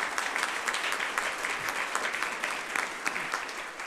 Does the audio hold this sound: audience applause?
yes